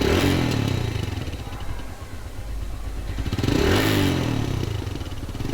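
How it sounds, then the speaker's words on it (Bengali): Exhaust note of a TVS Stryker 125 motorcycle with a single-cylinder air-cooled engine, a loud, close, continuous rumble that swells slightly in a rev. "সাইলেন্সারের শব্দ"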